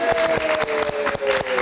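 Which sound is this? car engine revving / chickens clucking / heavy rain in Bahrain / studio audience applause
studio audience applause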